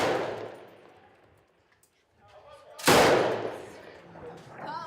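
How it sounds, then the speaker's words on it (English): Heavy machine gun fire during the civil war in Raqqa, Syria: a rumbling burst fades out, and after a short silence a much louder, sharper burst cracks and echoes across the area. "The IS fighter's position is too far, out of range for this heavy machine gun"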